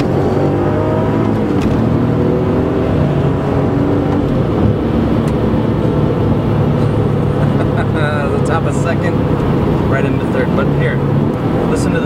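A Porsche 911 (996) Turbo Cabriolet engine hums steadily while cruising gently, a constant low drone with wind noise and someone talking over it.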